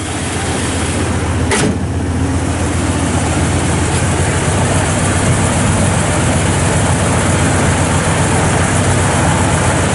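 A 1966 Dodge Coronet 500 with dual exhaust idles steadily at close range, a continuous low engine rumble with broadband noise running the whole time and a brief sharp transient early on.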